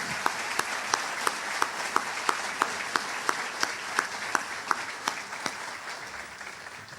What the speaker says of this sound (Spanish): a todos los funcionarios de la ANDE con un gran aplauso